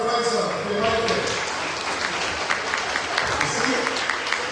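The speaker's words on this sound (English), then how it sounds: "give a round of applause for Brother Faisal if you like it" An indoor hall audience applauding during a Ramadan gathering before iftar, with a dense, steady wash of clapping that carries on throughout, close and loud, while a voice talks over it.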